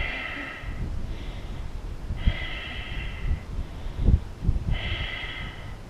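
Deep, rhythmic breathing during a yoga pose, close and audible, with forceful inhales and exhales repeating every second or so and no talking.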